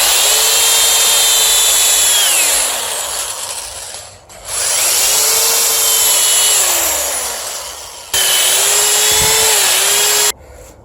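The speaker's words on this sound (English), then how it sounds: "I think I'm gonna have to drill the wood until I can pull it out" Power drill boring into the broken wooden handle of a soil tamper, a loud whining motor that bogs and rises in long strained runs, stopping briefly between passes.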